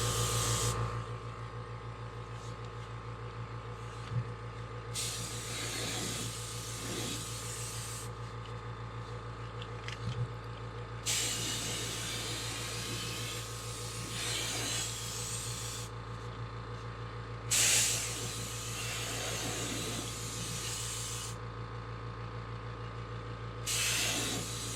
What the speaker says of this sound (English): So let me kick that compressor on.